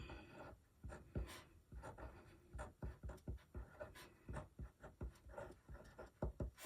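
A pen scratches across a Happy Planner dashboard page in quick, close strokes, with short bursts and pauses as words are written out.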